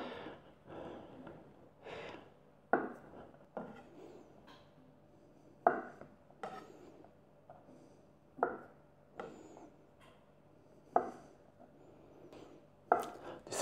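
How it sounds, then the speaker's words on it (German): A knife slices rolled potato dough into thick rounds on a board, a series of crisp separate chops at an uneven pace, close and fairly quiet with soft handling noise between cuts. "Und dann schneide ich mir eben Taler vorne."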